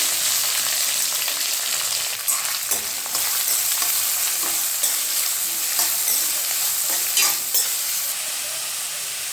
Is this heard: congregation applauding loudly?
no